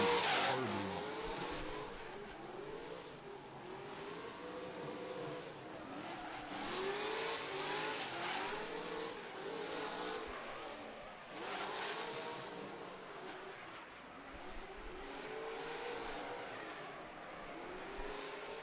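A drift car at the Oman International Drift Championship slides along the wall, its engine holding a loud, sustained howl that rises and dips with throttle, tyre roar mixed in, steady and close throughout.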